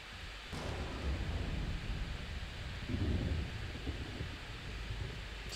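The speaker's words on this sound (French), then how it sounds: "l'orage s'est un peu empiré" Rumbling thunder and storm noise in the Resident Evil video game, a steady dark roar with a heavier swell of thunder midway, low in level and without speech.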